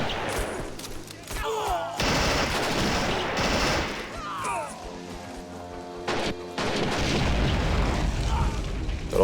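Gunfire and artillery explosions rattle through a Men of War battle between trench-fighting armies, with dense bursts of shots and heavy booms continuing nonstop across the scene.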